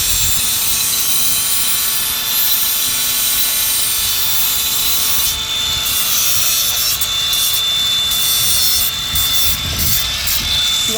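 Steady abrasive rubbing as the edges of a plastic starter recoil cover for a 1982 Honda 185s ATC trike are rounded off, continuing close up with a constant broadband hiss and no talking.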